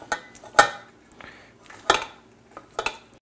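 Cooked macaroni being put into a dish for baked mac and cheese, a few sharp clinks of a utensil against the dish between quieter scraping sounds.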